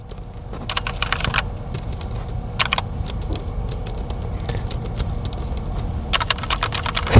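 Close-up typing on a Logitech MX Keys Mini computer keyboard, bursts of clacking keystrokes in irregular runs over a low background rumble.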